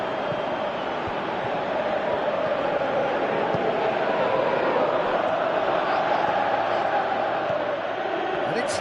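A dense stadium crowd in the PES 2018 football game roars steadily throughout, a loud continuous wash of voices building during an attack and urging a player to shoot.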